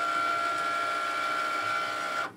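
A Cricut Maker cutting machine runs its mat and blade check, giving a steady mechanical whine with a sustained tone that holds for about two seconds and then cuts off abruptly, with no talking.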